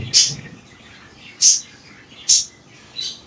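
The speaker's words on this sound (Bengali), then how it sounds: "দেখুন কি কিউট বেবি আমার বাজিগার পাখির" Budgerigar chicks in a nest box give four short, high, thin chirps, close and evenly spaced, with quiet handling noise between them.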